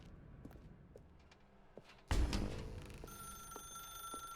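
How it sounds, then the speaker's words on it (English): A telephone rings loudly inside The Stanley Parable: Ultra Deluxe, a sudden bright electronic ring cutting in after a quiet stretch of faint room noise and soft thumps, then continuing as a sustained tone. "Now pick up the phone."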